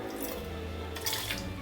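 Four ounces of water for vegan, gluten-free gingerbread cookie dough pours into a small mixing bowl, a steady close splashing stream running throughout with no talk.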